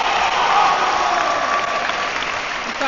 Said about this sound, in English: The crowd like that one. The crowd definitely like that one.